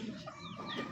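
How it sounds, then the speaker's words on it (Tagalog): Gamecock roosters in a backyard breeding pen cluck steadily at a moderate distance, with soft overlapping calls and faint higher chirps mixed in. "Yan, dami nating mga ibon."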